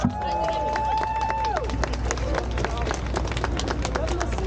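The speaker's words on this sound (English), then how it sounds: "Yeah, a round of applause." A crowd at an outdoor rally in New York claps and cheers, sustained loud applause with voices mixed in throughout.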